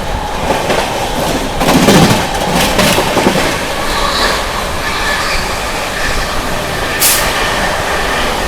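The 12393 Sampoorna Kranti Express rolls past with a steady, loud rumble of wheels and clattering coaches, a brief high squeal cutting through near the end.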